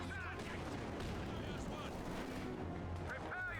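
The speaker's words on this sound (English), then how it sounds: "AT gun is trying to hit it through side blockers" Anti-tank gun fire during a World War II tank battle in a video game, with dull booms and rumble in a dense battle soundscape under a commentator's steady talk.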